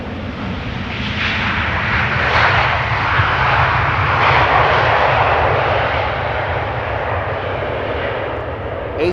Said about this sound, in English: Air Arabia Maroc flight 127, I think, arriving from Tangier.